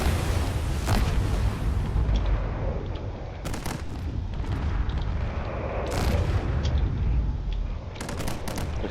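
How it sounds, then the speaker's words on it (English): Sustained booming cannon fire rumbles through a Drone Wars space battle, with heavy low roar and intermittent sharp blasts layered over constant dense noise. "Now this cannon fire is coming in, and that's going to be lethal."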